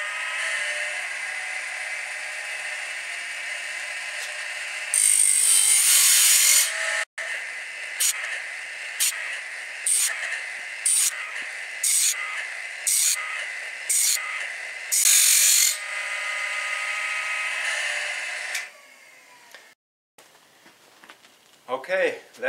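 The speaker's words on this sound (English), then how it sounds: "So I'm gonna touch up the rest of these teeth and this blade will be done." Woodland Mills blade sharpener grinding the teeth of a sawmill band blade, a steady whine broken by a regular series of short bursts as each tooth is touched up, then a brief pause before faint clicks.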